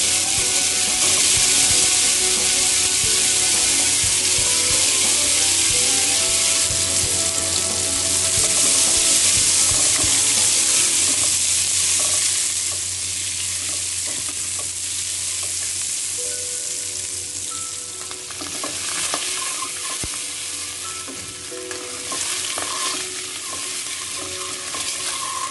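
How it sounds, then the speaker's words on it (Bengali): Eggs coated with turmeric and salt fry in hot oil, giving a loud, continuous sizzle and crackle throughout, with faint clinks of stirring and no talking. "ডিমে হলুদ লবণ মাখিয়ে ডিমগুলো তেলে ভেজে নিচ্ছি।"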